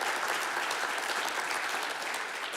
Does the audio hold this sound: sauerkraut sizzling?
no